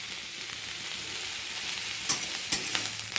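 Neem leaves frying in a pan give a continuous close hiss of sizzling oil, with a few crisp pops and crackles standing out near the end, no talking.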